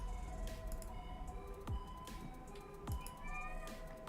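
A cat meows a couple of times, with drawn-out, slightly falling calls standing out against a busy background of game sounds and music at moderate distance.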